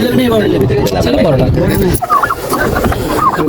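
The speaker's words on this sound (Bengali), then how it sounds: "এখানে আছে হলো টার্কিশ মুরগি, খুবই সুন্দর কিন্তু অনেক বড় বড় আর কি" Turkeys gobble in warbling bursts at a live poultry market in Hafar Al-Batin, Saudi Arabia, loud and near, with people's voices mixed in around them.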